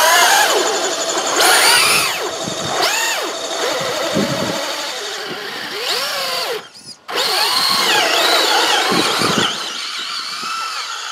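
Traxxas Rustler VXL 2WD and TRX4 Sport 4WD RC trucks in a tug of war: high-pitched electric motors whine and rise and fall in pitch continuously, loud and close, with a brief cut-out near the middle before revving again.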